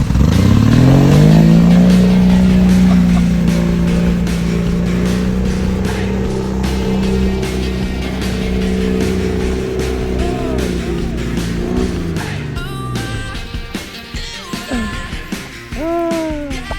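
Old four-wheel-drive truck engine running loud and steady outdoors, its low drone sliding down in pitch as it slows, then rough uneven revving and knocks near the end.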